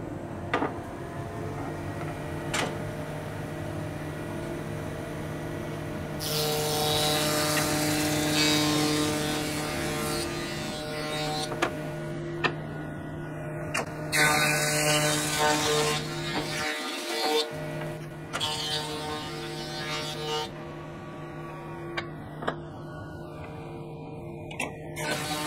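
A thickness planer runs in a woodworking shop as wood strips are fed through for a magnetic knife block, with a steady motor drone broken by louder cutting bursts, short gaps and clunks as pieces pass through.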